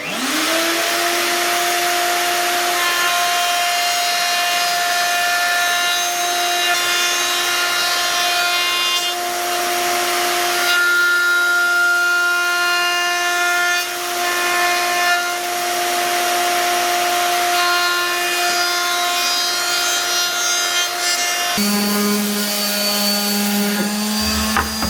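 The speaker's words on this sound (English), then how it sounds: "I just want to put a small chamfer around the board on the top and the bottom." A router cuts a small chamfer around the top and bottom edges of a wooden cheese board, giving a loud, steady high-pitched whine that runs almost unbroken, with a slight change in pitch near the end.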